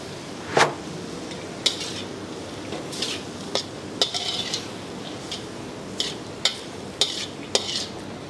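Minced beef and pork stirred as it fries in a pan: a steady sizzle runs underneath while a utensil clanks and scrapes against the metal in irregular strikes, close and clear, with no voices.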